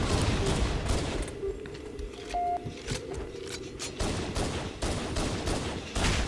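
Gunfire in a first-person shooter match, heard as a dense run of sharp shots and bursts with booming impacts spread across the clip, fairly loud and mixed with game noise.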